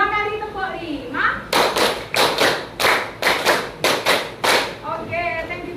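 A school class claps a rhythm in unison, two groups of five loud, crisp claps in a steady beat, with a voice speaking before and after.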